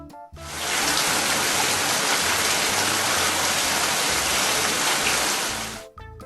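Rain falls in a steady, even hiss that starts abruptly, holds loud and close for several seconds, then cuts off, with a faint low tone beneath it.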